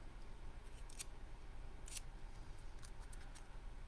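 Small paper snips make a few crisp, close snipping sounds while cutting and curling the edges of paper leaves from a craft kit, with quiet pauses between the cuts.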